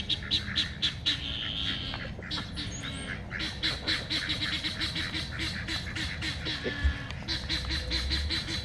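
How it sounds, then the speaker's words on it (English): Guinea fowl calling outdoors in a rapid, repetitive chorus of harsh, rhythmic cackles, moderately close and continuous, with wind rumble underneath. "Oh, those guineas. Now that they're out, there they go again, huh?"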